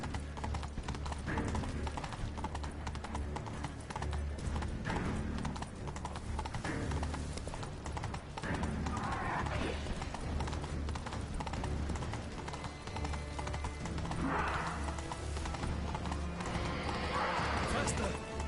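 Roach the horse galloping in a PS4 video game, a fast, continuous clip-clop of hooves with neighs, running under game sound and a voice talking over it.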